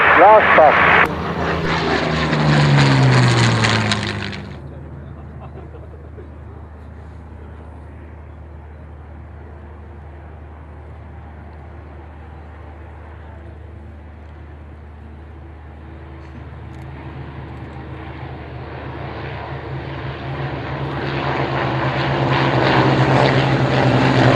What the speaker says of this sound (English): let's go nice and quiet so you can hear the sound of Warbirds